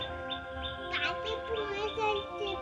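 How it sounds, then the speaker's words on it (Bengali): A few high bird chirps ring out over a constant low hum, with a short burst of sharper calls partway through. "এই দেখো পাখির আওয়াজ"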